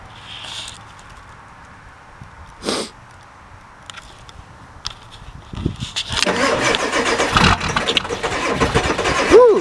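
A Ford 7.3 Powerstroke diesel with weak glow plugs is started on a cold day: quiet at first with a few short cranking bursts, then the engine catches and settles into a loud, rough, steady run.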